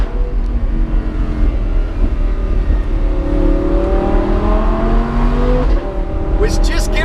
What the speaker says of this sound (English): the crackly exhaust.